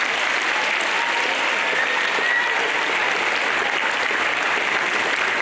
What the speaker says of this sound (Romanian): pe care vă rog să-l aplaudați.